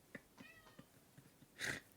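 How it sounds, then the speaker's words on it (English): A cat meows several times in short, plaintive calls, faint and spaced out at first, then one louder, brighter meow near the end. "I think her meows were so pathetically funny"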